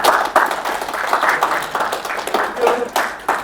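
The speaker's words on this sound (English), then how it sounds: "Please give yourself a big applause." Applause from participants at a corporate training game session, a burst of clapping from a group filling the room with dense, uneven hand claps that rise and fall in waves.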